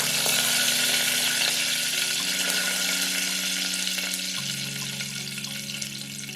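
Curry leaves and asafoetida frying in hot oil for dhal rasam, a steady bright crackling sizzle close up over a low hum, fading gently over several seconds.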